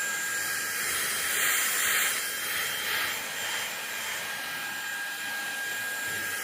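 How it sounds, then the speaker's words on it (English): A Fanttik Slim V8 Apex cordless stick vacuum running in eco mode gives a steady, close, airy whine and whoosh that holds throughout as it picks up crumbs and fluff. "It's actually picking things up quite well. And that's in eco mode."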